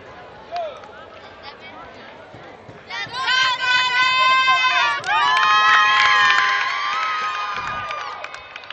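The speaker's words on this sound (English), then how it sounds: "Crowd goes wild." A crowd at a varsity high school baseball game at TD Bank Ballpark breaks into loud, sustained cheering and shouting that swells after a few seconds of quieter background chatter.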